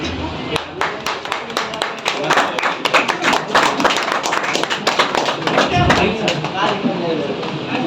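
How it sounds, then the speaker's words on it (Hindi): A crowd claps loudly at a dance class opening ceremony in Jaunpur, with sharp, scattered, irregular claps building into dense rapid clapping and voices beneath. "एक बार जोरदार तालियां होनी चाहिए।"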